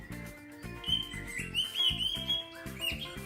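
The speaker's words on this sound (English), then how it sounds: "a Heggy bird just flew over" Cartoon bird chirping as it flies overhead, a few quick bright tweets rising over busy music and sound effects.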